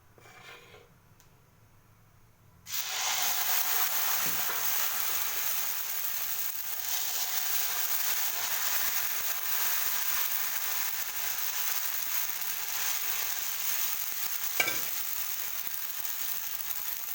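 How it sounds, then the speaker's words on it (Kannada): Dosa batter hitting a hot griddle, a sudden loud hiss after a quiet start that settles into continuous close sizzling, with a couple of faint scrapes and a clink along the way. "ಇವಾಗ ನೋಡಿ ದೋಸೆ ಬೆಂದಿದೆ."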